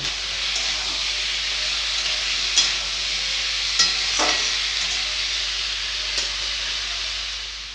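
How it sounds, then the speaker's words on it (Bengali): Radish and potato pieces fry in a pan with a continuous close sizzle and hiss while a utensil stirs, scraping with occasional clicks, loud and steady throughout with no talking. "পেঁয়াজ টমেটো লাল হয়ে গেছে এবারে কেটে রাখা মূলো আলু দিয়ে দেব"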